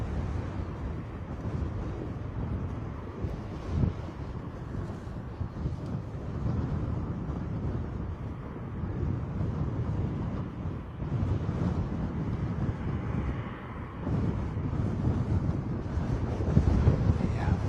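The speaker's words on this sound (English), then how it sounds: "Definitely a much more aggressive wind than it was when we arrived here today." Strong gusty wind buffets the microphone at Bristol Airport, a continuous loud low roar that swells and eases throughout, with no talk over it.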